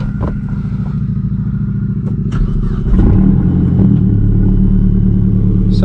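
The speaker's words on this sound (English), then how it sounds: "I am gonna leave the windows just a little cracked just so we can get that nice exhaust note in here." A 2011 MazdaSpeed3 heard from inside while driving with the windows slightly cracked, its engine and exhaust humming low and steady before swelling louder into a stronger rumble partway through, close and continuous.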